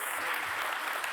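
An audience round of applause at a climate justice panel event, continuous dense clapping at a steady moderate level across the short stretch, with no clear voices over it.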